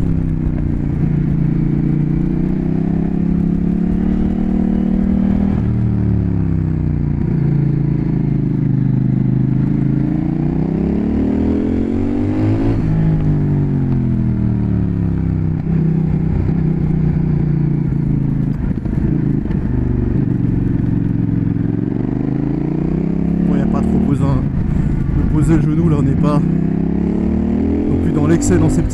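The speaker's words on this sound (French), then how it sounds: "c'est une moto qui s'envoie tellement bien en vrai." A CF Moto 800 NK motorcycle engine rides a winding road with tight hairpins, its loud steady drone rising and falling with throttle changes throughout, with wind noise and a rider talking over it.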